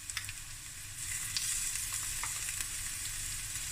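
Garlic sizzles steadily in a hot pan while haddock frikkadel is being cooked, a dense, continuous frying hiss that swells louder after the first second, with a few faint scrapes on top and no talking.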